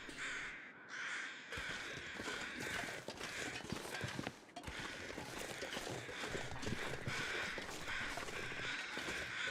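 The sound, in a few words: birds calling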